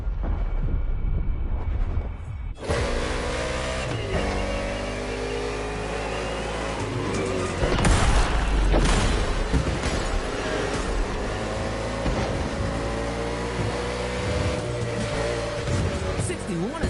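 Cars in an urban street race in Hawaii in The Crew Motorfest, with engines revving and roaring steadily and passing close, under ongoing commentary that sets in a few seconds in.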